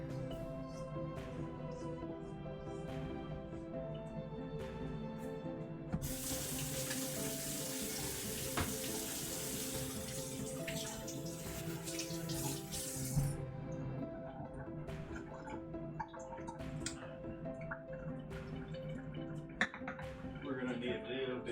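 Cold water running from a kitchen tap into the sink, a loud steady rush lasting several seconds in the middle, with someone talking over low kitchen background before and after.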